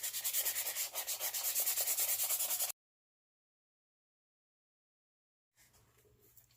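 Sandpaper rubbed by hand over a wooden craft piece to smooth it, a close, rhythmic scratchy rasping for about three seconds, then silence and faint quiet rubbing.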